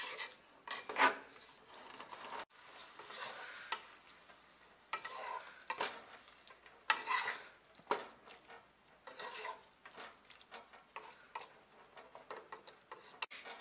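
Chopped mango and sugar cooking in a pan over low heat for sago kheer, with soft intermittent stirring and scraping strokes and a faint sizzle, close and fairly quiet, no voices.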